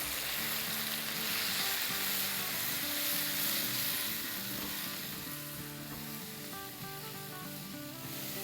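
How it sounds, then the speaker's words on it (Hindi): Food sautés with spices in a hot pan, giving a continuous, fairly close sizzle with soft scraping and stirring strokes running through it, steady throughout and with no talking. "देखिए मसालों के साथ सॉटे होते हुए 1 मिनट हो गए हैं।"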